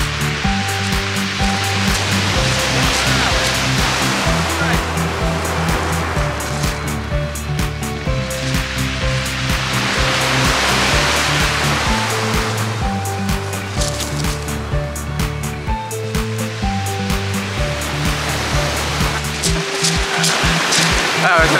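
Wind buffets the microphone and sea surf washes steadily onto the shore at Alum Bay by The Needles, a loud continuous roar with a speaking voice over it.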